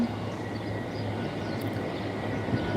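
A train rumbles past on the tracks below, a steady, fairly loud broadband roar that holds for the whole stretch without breaks, with no voices over it.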